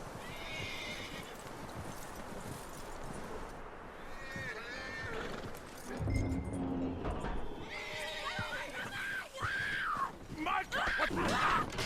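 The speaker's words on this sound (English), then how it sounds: "That looks like a decent horse. You should keep him." A horse in Red Dead Redemption 2 whinnies and neighs repeatedly with clip-clopping hooves, rising calls clustered toward the end, while characters talk over parts of it.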